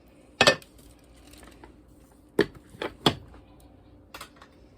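A spoon clinks and scrapes against a bowl while soft butter is stirred into a praline mixture, with a few sharp knocks spread unevenly through the quiet stretches.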